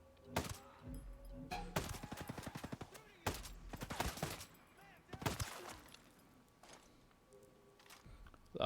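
Gunfire in a video game: several bursts of rapid shots spaced out across the stretch, each a sharp crackling volley, with quieter gaps between them.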